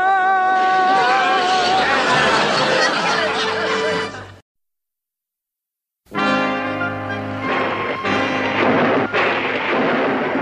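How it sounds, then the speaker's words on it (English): Loud rolling thunder from a storm, a long rumble that cuts off into silence and then crashes again, with chuckling heard during it. "Thunder?"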